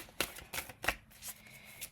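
Playing cards riffle and snap in quick soft bursts, several shuffles close up with no talking.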